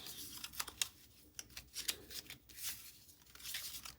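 Playing cards being shuffled and mixed by hand at a table, soft quick riffling and sliding flicks in short irregular bursts, quiet and close.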